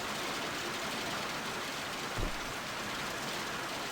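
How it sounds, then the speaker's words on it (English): Heavy rainstorm near a sugarcane field, a dense, steady hiss of rain pouring down close by, with one brief low thump partway through. "it's really storming"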